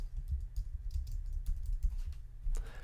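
A few soft, close keyboard clicks on a computer keyboard as a shortcut is pressed, faint against a low hum.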